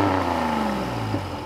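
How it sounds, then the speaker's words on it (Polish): A Chevrolet Blazer engine of 190 horsepower pulls smoothly from inside the cabin, a steady close mechanical hum whose pitch drifts gently downward, running alone without speech. "Silnik ma fantastyczną kulturę pracy."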